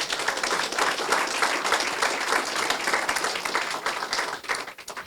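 An audience at a curling club event applauds its sponsors, giving a sustained, fairly loud patter of many hands clapping for about five seconds, tapering slightly toward the end.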